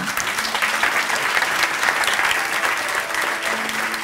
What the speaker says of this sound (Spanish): Un aplauso para Juancho al piano